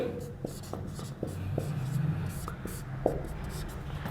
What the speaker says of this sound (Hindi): यहां पे मैं लिख देता हूं नोट करके